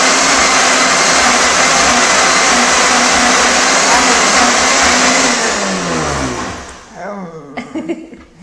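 A blender whizzes a chocolate mixture in a home kitchen, a loud steady high-speed whir that holds for several seconds, then winds down and sputters to a stop.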